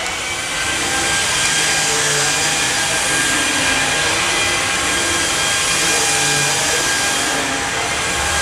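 Samsung Jet VS70 cordless stick vacuum running over a filthy carpet, a loud, steady broadband whoosh and motor whine that holds without pause from start to finish, with no voices over it.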